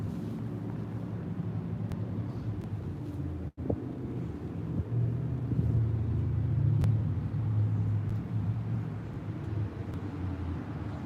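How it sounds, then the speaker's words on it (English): Car with a loud engine passing at a street intersection, a low rumbling drone that swells and lingers for several seconds amid wind noise and distant traffic, with no talk. "here comes a loud engine car"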